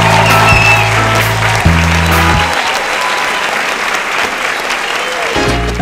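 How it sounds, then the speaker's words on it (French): A theatre audience gives loud, sustained applause for acting students at an inter-class evening show, with voices and musical tones over the clapping at first, then the clapping alone. "je voudrais qu'on fasse un tonnerre d'applaudissements aux élèves qui viennent de passer"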